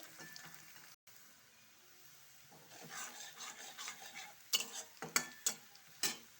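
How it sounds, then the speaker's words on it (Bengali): Spices and a small-cut bay leaf fry in a pan for a soybean curry, stirred with a spatula. A low steady sizzle builds into repeated sharp scraping strokes near the end, with no talking. "এভাবে একটু ভালো করে নেড়ে চেড়ে গোল্ডেন কালার আসতে হবে"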